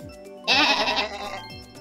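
A man imitates a sheep with his voice, one wavering, nasal bleat lasting about a second in a quiet room, with a little faint background sound before and after.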